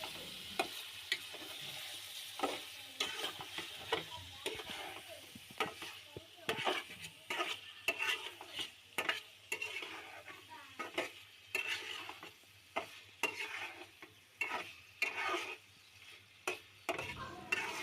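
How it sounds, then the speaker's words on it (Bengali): Pigeon meat being stirred in a pan while it cooks down, with irregular clacks and scrapes of a spatula against the metal over a low sizzle, close and without talk. "এবার একটু নেড়ে চেড়ে দিব।"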